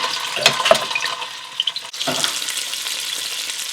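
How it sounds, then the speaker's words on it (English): Lobster parts sizzle and spatter in a hot pan, sautéing after garlic has been removed, with a few sharp crackles and stirring clatter over a steady close-up frying hiss. "After I've taken the garlic out, I just add the lobster parts. This has to be sautéed."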